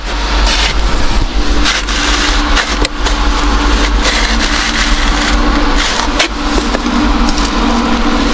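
A car engine held under throttle roars loudly and steadily, close up, with a dense continuous revving drone and slight fluctuations in pitch throughout.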